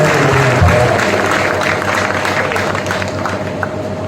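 Audience applause at a Prem Nazir Suhruth Samithi gathering, a steady dense clapping from a crowd that holds for about four seconds without talk over it.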